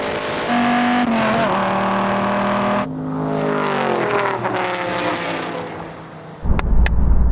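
Sports car in a drag race, apparently a Cobra, Viper or Mustang, accelerating hard through gear changes with rising engine pitch, loud and close, then a brief clatter and rumble at the end.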